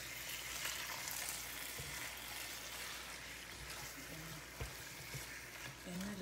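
Beef frying in a pan with onions, a steady close sizzle broken by scraping and stirring sounds, with a few quiet voice fragments underneath.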